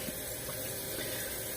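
Tap water runs steadily into a sink while raw tripas are rinsed, a dense, even rushing that stays moderately loud and close with no talking over it.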